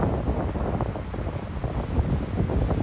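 Strong wind at 30-plus mph gusts with sideways rain buffeting the microphone outdoors at a South Florida disc golf playoff, a rough continuous low roar with rising and falling gusts.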